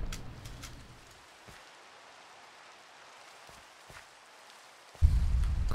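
Gentle rainfall in a modded Minecraft game forms a quiet, continuous wash with a few faint ticks, then a louder burst of low noise cuts in near the end.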